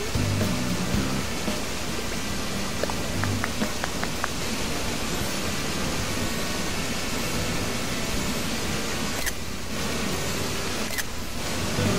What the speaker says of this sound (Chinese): 它的露营地全部都是瀑布